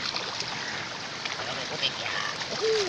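Water splashes and trickles steadily in a stream as someone washes, a continuous wet rushing close by with faint voices now and then.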